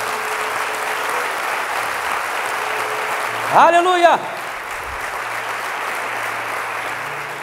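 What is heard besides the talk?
applause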